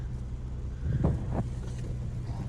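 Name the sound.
car engine idling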